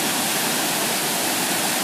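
Water pours steadily over an old, partly ruined canal lock on the Hennepin Canal, a continuous loud broadband rush with no talking.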